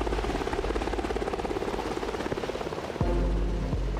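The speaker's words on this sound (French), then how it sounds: "un bruit d'hélicoptère au-dessus de nos têtes." Helicopter flying overhead, returning firefighters to a base of soldiers and firefighters in the afternoon; a loud, steady rotor thump and engine drone throughout, growing heavier in the last second, with no talk.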